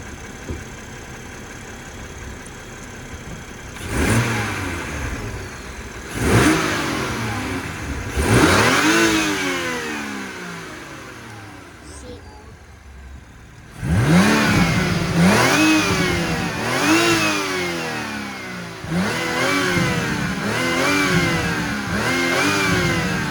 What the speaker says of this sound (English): I'm going to rev it up just a little bit.